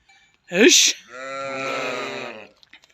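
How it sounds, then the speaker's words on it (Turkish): A single sheep lets out a loud, wavering bleat close by, starting with a sharp cry and trailing into a long quavering call, followed by faint clicks. "Koyunlar girecek."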